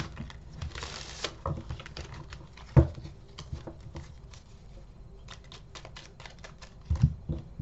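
Tarot cards being shuffled by hand, a soft continuous patter of riffling cards with a few sharper slaps and taps, close and fairly quiet, with no talking.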